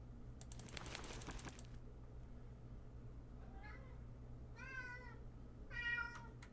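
A few short cat meows, moderately close, spaced apart after a brief burst of clicking or tapping at the start, over a quiet background hum.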